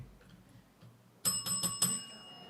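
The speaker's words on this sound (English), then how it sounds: "I have a trusty bell here that I intend to use" A small hand bell is rung to mark the end of a break, giving four quick bright rings in a row in a quiet room after a soft murmur.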